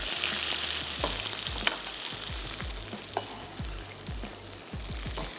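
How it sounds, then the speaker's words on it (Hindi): Tomatoes and spices fry in a pan for tarka aloo with a loud, dense, steady sizzle and bursts of crackle, with scattered stirring knocks and no talking. "अब इसकी कुकिंग को यहीं पर रोकने के लिए हम इसमें ऐड कर देते हैं ये टमाटर"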